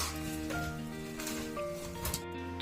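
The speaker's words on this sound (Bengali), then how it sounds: "এবার আমি লালচে করে ভেজে নেব।" Bread chops fry in hot oil in a home kitchen, a steady soft sizzle and crackle running throughout, with a tonal hum and faint clinks alongside.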